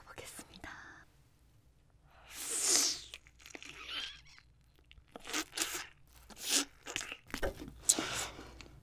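Black tiger shrimp with ramen eaten close to the mic in a raw seafood mukbang, with crunchy bites and moist chewing in bursts and whispered talk between them.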